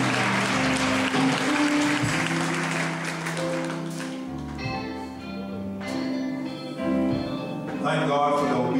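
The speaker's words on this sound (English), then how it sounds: "Let's give the Lord a hand clap of praise for the man of God." A church revival congregation applauds with sustained hand clapping in praise while music plays along and a voice speaks over it.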